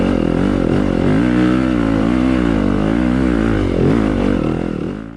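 A 2021 Yamaha YZ250FX dirt bike with stock engine and stock exhaust pipe revs loudly and continuously up close, its pitch rising and falling through several throttle blips.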